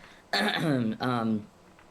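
A voice gives two short, exaggerated throat-clearing coughs in quick succession, close and loud.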